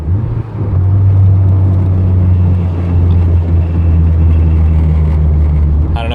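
A Toyota AE86 fitted with Cusco upgrades drives on the road, giving off a loud, steady low rumble and droning cabin resonance with a mild vibration. The sound fills the interior close up and continuously, with no voices.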